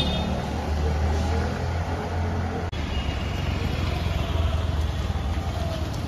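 A Yamaha Ray ZR 125 scooter runs on a test ride, with a steady low engine hum and wind and road noise throughout, along with a single sharp click partway through.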